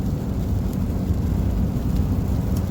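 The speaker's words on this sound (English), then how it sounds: "But it is raining pretty good." Heavy rain drums steadily on a car during a drive along California back roads near Desert Hot Springs, a loud continuous rushing wash with low road rumble beneath and no talk.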